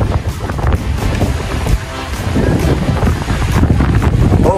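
Strong storm wind batters the microphone on a windy outdoor vlog shoot in Pugad Lawin, Pagbilao, Quezon, loud continuous rumbling gusts with surging buffets and a faint voice now and then underneath.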